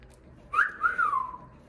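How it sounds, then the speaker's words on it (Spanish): Cockatiel giving a single short rising-and-falling whistle, clear and close against a quiet room. "Starly, le tienes que enseñar al piolín a silbar como silbas."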